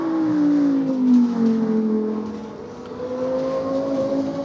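A Lexus LFA V10 supercar runs at the Goodwood Festival of Speed, its engine note dipping slightly then climbing again in a loud, sustained drone with no talking.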